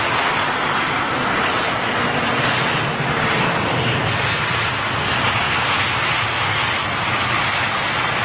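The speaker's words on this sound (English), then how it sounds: "It's quite a new aircraft by the looks of it" An Airbus A380 airliner roars steadily and loudly close by at an airport, a continuous broad engine rush with no talking.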